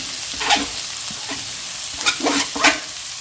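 Cabbage and onion fry in a pan, a low steady sizzle broken by a few sharp scraping stirs near the start and again toward the end.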